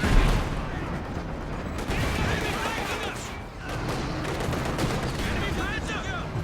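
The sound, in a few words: KV-2 tank firing in Company of Heroes 2 video game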